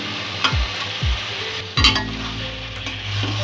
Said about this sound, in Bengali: এঁচোড়ের সাথে মশলাগুলো ভালো করে কষিয়ে নেব।